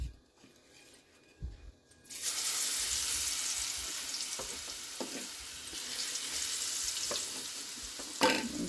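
Garlic and spices hit hot oil with a sudden loud sizzle that then hisses steadily, broken by a few stirring scrapes close by.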